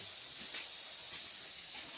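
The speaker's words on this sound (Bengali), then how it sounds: "সুন্দর কাঠের জালে রান্না হচ্ছে।" Steady, close hiss of cooking over a wood fire in a homestay kitchen in a forest village, with no one talking.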